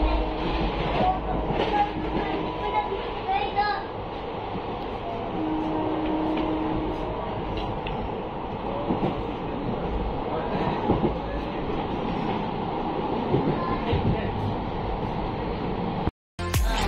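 A metro train runs toward Palam station with a continuous loud rumble and rattling wheel noise that fills the car, with a brief tonal whine partway through.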